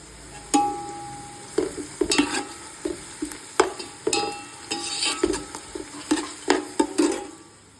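Onions frying in a pot for biryani, with a low sizzle under frequent scraping and clinking strokes of a spoon against the metal in an uneven rhythm.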